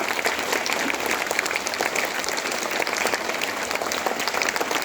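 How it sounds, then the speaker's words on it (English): Sustained applause from an audience at a school assembly, a dense, steady clatter of many hands clapping for the full stretch, fairly close and even in loudness with no talk over it. "today I want to give a big round of applause to the teachers and the students who conducted the assembly"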